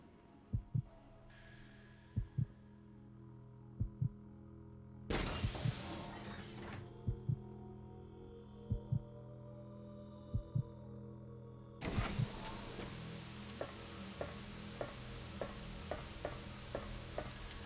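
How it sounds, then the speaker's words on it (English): Resident Evil Code Veronica X plays its heartbeat effect as regular double thumps over a low drone, interrupted by bursts of bright noise, with no voices. "I don't like the heartbeat."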